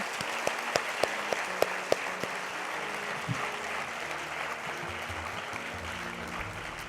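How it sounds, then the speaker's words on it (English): Audience applause fills the Sai Hira Global Convention Center: a sustained crowd of clapping hands with several sharp, close individual claps in a quick rhythm near the start, then a steady, even wash. "May I request all to put your hands together to give everyone a big round of applause."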